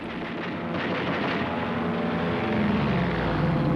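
A WWII P-40 Warhawk fighter's propeller engine drones steadily and loud, a broad rumbling roar with no voices over it.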